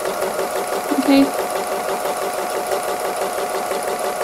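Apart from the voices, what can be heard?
sewing machine doing free motion embroidery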